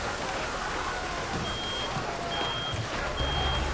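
An alarm in the video game Reverse:1999 that sounds through a steady, loud droning wash, with thin high-pitched beeps repeating at intervals over the top.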